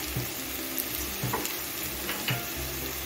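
Onions frying in a pan for onion paratha, a steady close sizzle with a low hum underneath and a few light scrapes and clinks of stirring.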